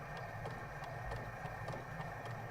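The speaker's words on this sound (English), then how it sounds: "I'm just going to sew to where the pin is" A sewing machine stitches fabric up to a pin, a quiet, steady mechanical hum with a rapid regular ticking of the needle running throughout.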